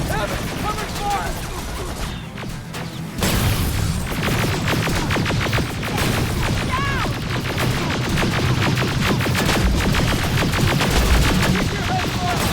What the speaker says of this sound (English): Evan, cover fire!